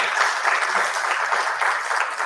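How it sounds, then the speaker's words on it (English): A conference audience at a fertility medicine conclave applauds a doctor in a sustained, even roar of many hands clapping, moderately loud and unbroken by speech. "a big round of applause for Dr. Pratap Kumar over here"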